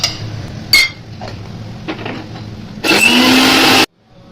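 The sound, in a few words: mixer grinder (mixie) grinding poppy seeds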